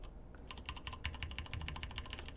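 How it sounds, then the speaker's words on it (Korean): Computer keyboard keys pressed in a rapid, even run of light clicks, close and quiet, while a Korean-language After Effects lesson is recorded, with no talking over them. "컨트롤을 누른 채로 이제 키보드 방향키를 눌러도 미세하게 조정이 가능합니다"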